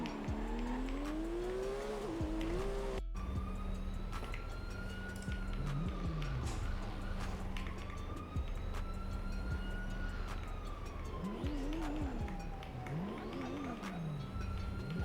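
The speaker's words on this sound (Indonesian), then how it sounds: "Gue naik mobil gue nih." A car drives off in a video game, its engine revving with rising and falling pitch over tire noise, while siren-like wails sweep in the background.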